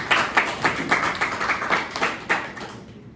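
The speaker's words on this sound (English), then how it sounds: "Clap it for me, well done." Audience clapping during a lecture, sparse and uneven with about ten distinct claps over a few seconds, fading out at the end, with no speech over it.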